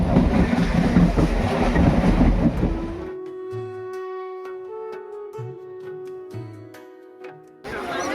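Train carriage running on the rails toward Subhash Gram, a loud steady rumble that gives way to quieter rolling with clicks, squeals and a sustained tonal whine, then the roar returns at the end.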